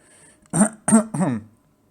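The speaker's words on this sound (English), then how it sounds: "Once again, I apologize for the coughing." Three short, harsh coughs in quick succession, close up, with a quiet pause before and after.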